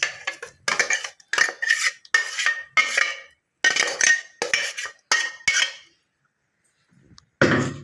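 Spinach mash (pasalai keerai masiyal) is scraped and spooned from one cooking pot into another: a run of short metallic clinks and scrapes in quick bursts, then a pause and one final clatter.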